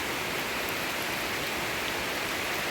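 Heavy rain pours down on a farm, a dense, even roar of hiss that fills every moment without a break and has no voices over it.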